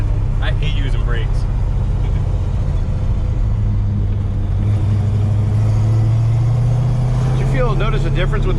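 A 1968 Oldsmobile Cutlass decelerating in third gear while driving gives off a steady, deep engine rumble that slides smoothly in pitch as it slows, with people talking briefly at the start and end.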